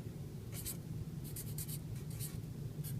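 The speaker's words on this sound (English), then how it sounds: "I'm going to write that down." A pen scratches across paper in short bursts of strokes, close and fairly quiet, over a steady low room hum with no voices.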